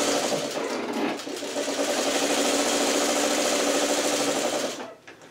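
A vintage sewing machine stitching fabric on a quilt block runs in one steady, close, continuous whir with a fine rapid needle chatter, then winds down and stops near the end.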